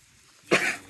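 A calf coughs once, a short, harsh, close burst in a quiet mountain hamlet farm setting.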